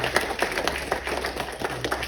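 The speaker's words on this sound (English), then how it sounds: "Can we give clap offering?" A church congregation gives a clap offering: brisk, dense clapping from many hands, fairly close and even, with no voices over it.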